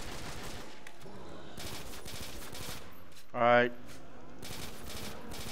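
Gunfire in Custom Zombies on the Airport map, a steady stream of rapid shots running under the whole stretch, with a brief louder burst midway and a voice saying a word.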